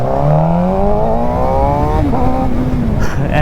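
A supersport motorcycle accelerates hard into a power wheelie, its engine note climbing steadily in pitch, loud and close throughout, then dropping briefly at a gear change before rising again.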